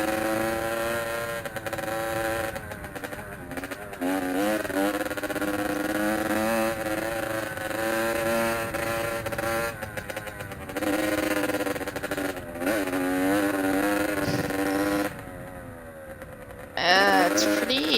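Motorcycle engine revving and shifting on a trail ride through private bushland, steady and close throughout with rising and falling pitch sweeps and a brief louder burst near the end, under occasional talk.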